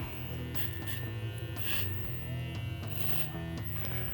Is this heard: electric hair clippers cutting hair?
yes